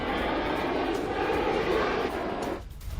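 American B-2 bomber flying, a loud continuous roar of aircraft engines that holds steady and then tapers off near the end.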